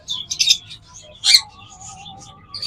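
Local-breed pet birds for sale, several bright chirps and squawky calls in short bursts, close by, with a faint voice beneath.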